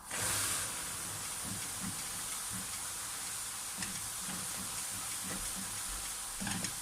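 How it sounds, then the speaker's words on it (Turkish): Flour for Kars-style umaç helva is stirred in a pan over low heat, giving a steady soft hiss with faint repeated scraping strokes throughout. "Aynı şekilde karıştırmaya devam ediyoruz."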